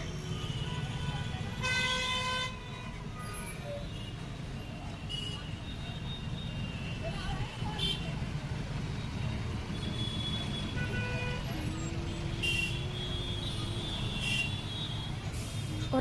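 Busy city street traffic in an Indore market: a constant roar of engines with repeated car and scooter horns honking near and far, and people talking in the crowd.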